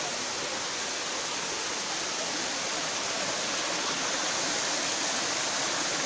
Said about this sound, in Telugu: వాటర్ వచ్చింది పైన చెరువు ఉన్నందువల్ల చెరువు నిండిన వాటర్ అయితే మన కింద వాటర్ ఫాల్స్ వస్తాయి.